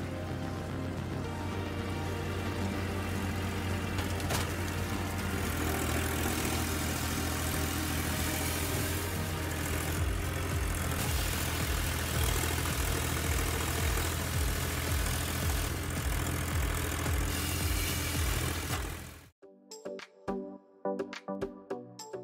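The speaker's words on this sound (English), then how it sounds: "Listen to the engine sound to feel the impressive power of this wood splitter." A firewood processing wood splitter's engine runs with a loud, steady drone for most of the stretch, then cuts off abruptly near the end, leaving sparse mechanical knocks.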